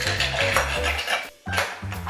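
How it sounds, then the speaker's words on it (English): Ice cubes tumble into a mixing jug for a martini with close, bright clattering and rattling, a short pause, then another scoop of ice clinking in. "So next we're adding ice."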